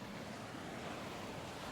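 Sea waves wash onto the shore at Kalmunai on Sri Lanka's eastern coast, a continuous hissing surf with a low rumble underneath. It is steady and fairly faint, with no voices.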